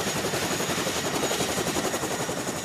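A helicopter flies in to resupply a military checkpoint in Afghanistan, its rotor throbbing in a steady rapid pulse, fairly close and continuous with no talk.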